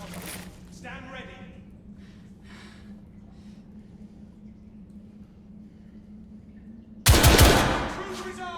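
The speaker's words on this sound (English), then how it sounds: "Gunfire was coming from that tunnel." Gunfire in The Order: 1886 played on PS5, a sudden loud burst near the end after a long quiet stretch. Brief voices are heard early on.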